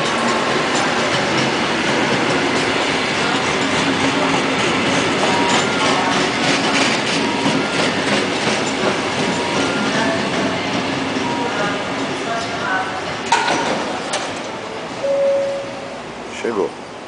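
Metro train arriving at Tamanduateí station in São Paulo, a loud rolling rumble with rhythmic wheel clatter and faint squeals as it pulls in, then easing off, with people talking over it.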